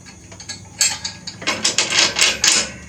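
A ratchet wrench clicks rapidly as flange nuts and bolts are tightened on a homemade mud mower lift kit, close and fairly loud, with bursts of quick ratcheting in a steady rhythm.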